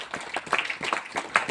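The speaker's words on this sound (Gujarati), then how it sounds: "જોરદાર તાળી થઈ જાય આ લોકો માટે." Seminar audience in Bhavnagar clapping, a quick run of fairly close hand claps in an uneven rhythm, moderately loud, with a few voices mixed in.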